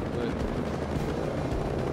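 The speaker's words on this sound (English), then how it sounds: "Y'all mind taking out these helicopters that are beaming down on me?" Helicopters in Ghost Recon Breakpoint produce a dense, loud rotor roar that fills the whole moment, with a voice talking over it.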